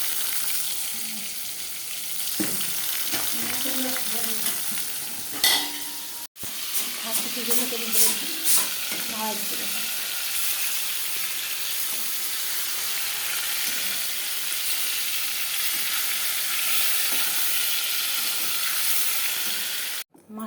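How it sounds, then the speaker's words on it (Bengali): Small pieces of fish sizzle in a pan at home, a continuous close hiss and crackle that runs throughout, with a voice briefly talking over it early on. "মাছ ভাজা বসা দেওয়া হচ্ছে, তখন সব দেখে যাবে।"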